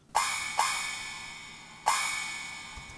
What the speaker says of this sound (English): I speeded them up to make them sound smaller.